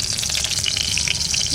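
Bay leaves and dried red chillies fry in hot oil, giving a brief, bright crackling sizzle close up with faint stirring beneath.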